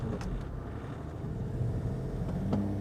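Land Rover off-road vehicle crawling over a bump with little momentum, lifting tires: a steady low engine and drivetrain rumble with a few faint knocks, heard from inside the cabin.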